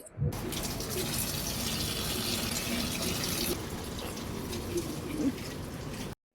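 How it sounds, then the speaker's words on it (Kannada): Steady splashing water from watering plants runs for several seconds with a broad hiss, then eases slightly; faint birds chirp in the background. "ಗಿಡಕ್ಕೆ ನೀರು ಹಾಕ್ತಾ ಇದ್ದೀನಿ"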